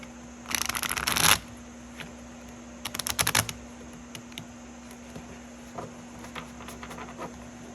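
Tarot cards are shuffled in two loud, dense riffling bursts close to the mic, with a few softer scattered card taps and handling sounds between them in an otherwise quiet room.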